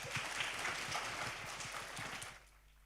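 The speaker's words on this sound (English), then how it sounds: "Once again, a huge round of applause for these guys." Audience claps for panel guests at an event, a brisk round of applause at moderate distance that fades out toward the end.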